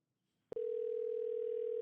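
Telephone line tone heard while placing a call, a brief click followed by a steady, unbroken electronic tone that holds loud and even to the end.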